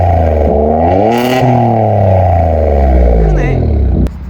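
A loud Kia Stinger engine revs up through its exhaust with a deep, rising rumble and burble, holding high before cutting off abruptly near the end.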